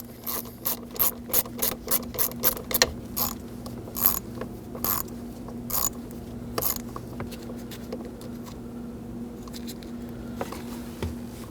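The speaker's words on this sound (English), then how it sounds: "I'm using a ratchet with the bit on the end, and I'm doing that because it's a really tight spot" A ratchet with a bit on the end loosens bolts in a tight spot near the ignition switch of a Kia Optima, giving bursts of rapid clicking followed by sparser clicks, close and moderately quiet.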